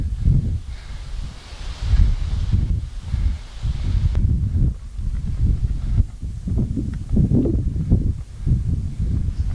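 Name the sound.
wind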